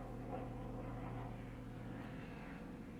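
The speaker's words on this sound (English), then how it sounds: "Sorry about the helicopters" Helicopters passing overhead on a summer evening, a steady low engine and rotor drone that swells and eases gently, moderately distant, with no speech.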